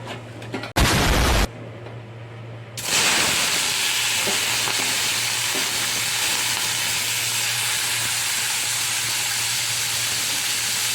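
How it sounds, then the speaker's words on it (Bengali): Prawns dropped into hot oil in a wok burst into a loud, dense sizzle after a short clatter, then keep up a steady close hiss of frying with no talk. "কড়াই তেল দিয়েছি এবার মাছটা আমি দিয়ে ভেজে নেব"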